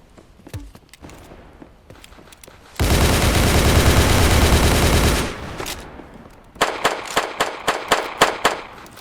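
RPK machine gun in the game Those Who Remain firing a long, loud continuous burst, set between scattered shorter shots and sharp single reports afterward.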